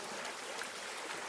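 Continuous hiss and rush of a big creek flowing beside the Appalachian Trail, steady and fairly close with no voices.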